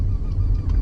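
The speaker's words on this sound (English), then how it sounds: "that squeaking noise you hear is the CSB. It needs replaced." Worn center support bearing on a 2000 BMW M5 squeaks steadily under a low driveline rumble, a honk-like chirp repeating close by with no talking.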